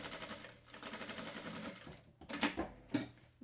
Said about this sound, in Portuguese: E aí eu vou aplicar aqui uma costura, ó, pra tá segurando tudo isso aqui